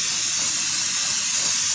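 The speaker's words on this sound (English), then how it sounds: "What I like to do is get a little compressed air and some brake clean, okay? And you want to spray at the shaft on there" Brake cleaner sprayed from an aerosol can at the driver's side axle shaft and transmission housing of a Ford 6F50 six-speed transmission, a steady close hiss that runs unbroken and loud for the whole clip.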